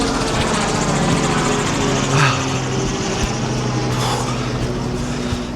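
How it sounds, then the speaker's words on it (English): A helicopter passes overhead during an outdoor run, its engine and rotor drone a steady, loud, broadband rumble that fills the whole stretch without any talk. "Second helicopter."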